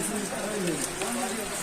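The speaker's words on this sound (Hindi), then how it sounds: "देख सकते हैं काफ़ी सारी बारिश हो रही है यहाँ पे।" Heavy rain falls at a Himalayan ashram in Nepal as a dense, even hiss throughout, with a voice faintly audible beneath it.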